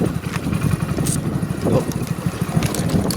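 A motorcycle engine idles steadily nearby with a low, rapid putter, slightly rising and falling, with no talking.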